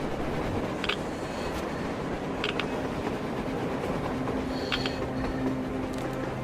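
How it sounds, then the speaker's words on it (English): A train in the video game Metro Exodus rumbles steadily past with a continuous low roar and occasional faint metallic clicks and clanks, no talking. "A train! A damn train on the surface!"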